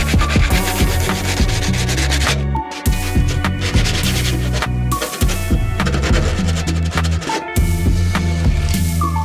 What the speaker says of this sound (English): Sand down these sharp edges as well.